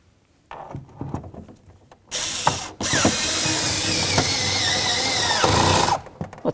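On a Chevy S-10 door, a tool drives in the door handle's mounting bolts with a few faint clicks, then a loud, continuous whirring ratchet that rises and falls in pitch for several seconds before stopping.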